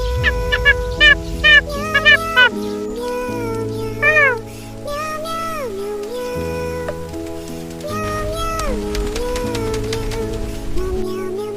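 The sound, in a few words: cat meowing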